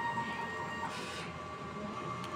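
A DTF printer runs a print-head cleaning cycle, producing a steady mechanical whir and hum with faint tonal whines, close and continuous, with no one speaking.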